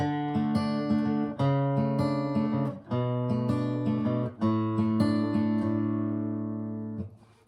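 An acoustic guitar plays a plucked, walking bass line with a few chord strums, steady and close, ringing out at the end.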